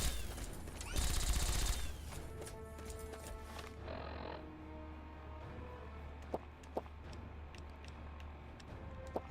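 Gunfire in the video game Fallout 3: a dense burst of shots early on, then scattered single cracks over a low game ambience.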